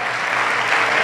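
A church congregation clapping for God during a sermon, a brief burst of thick, even applause filling the room.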